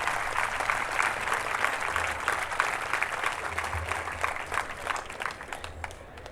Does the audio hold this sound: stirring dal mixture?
no